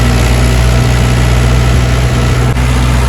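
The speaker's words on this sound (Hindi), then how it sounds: "तो चल पड़े हुए सारे ट्रैक्टर" Several tractors running together at a building site in Delhi, a loud, steady low engine drone with a constant idling rumble and vibration, unbroken and close by.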